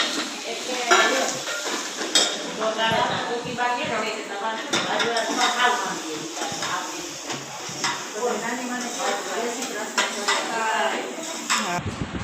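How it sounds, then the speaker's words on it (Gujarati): Sev tomato curry and chillies are tempered in a pan in a home kitchen, with steady sizzling, scraping stirs and clinks of utensils running throughout while people talk over it. "મારી મમ્મી શાક વઘારે છે સેવ ટમેટાનું અને મરચાં વઘારે છે"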